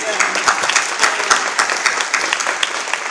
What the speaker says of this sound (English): yes, go ahead, applaud for it, because it really was.